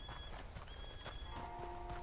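A horse gives a few neighs and snorts over faint clip-clop hoof steps, moderately close with a busy background.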